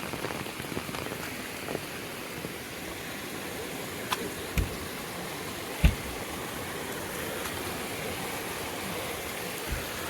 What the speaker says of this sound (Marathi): मस्त पाणी येतोय वरून